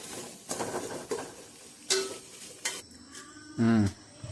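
Whole spices being stirred and sautéed in ghee in a pot for mutton biryani, with soft sizzling, a few scraping clinks of a spoon against the pot and a brief louder clatter near the end.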